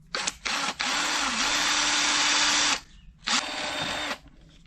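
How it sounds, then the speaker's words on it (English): A handheld power drill bores a hole with a number 7 drill bit, the motor whining in two long runs after brief starts and stops, loud and close with no talk. "In order to tap a 1/4 hole, you need to drill it with the number 7 drill bit."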